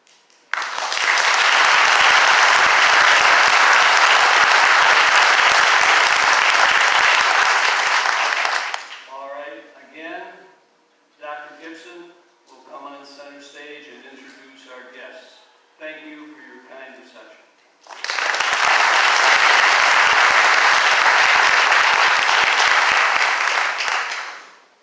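Auditorium audience applauding loudly and steadily at a university panel discussion, two long bursts of clapping framing a stretch of a person talking in between.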